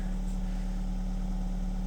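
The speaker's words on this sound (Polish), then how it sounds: "Pięknie silniczek mruczy." A Mazda CX-3 engine idles, heard as a steady, even low hum with a constant drone and no change in pitch; no one speaks.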